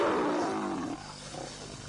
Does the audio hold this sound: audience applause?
no